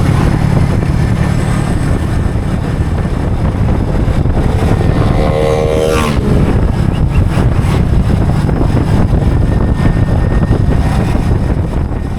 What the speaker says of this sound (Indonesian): kecepatan motor nggak pernah lebih dari 60 km per jam